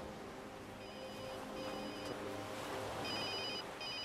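A mobile phone rings with an incoming call, its repeating electronic ringtone beeps sitting faintly over a steady background bed of music or room noise.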